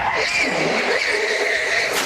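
Tires squeal hard on a drag racing car during Top Alcohol Funny Car semi-final eliminations at the Spring Nationals in Houston, a loud, continuous screech with a roaring engine behind it for about two seconds.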